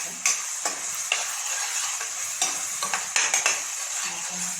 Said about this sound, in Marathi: चांगलं तेलामध्ये परतायचं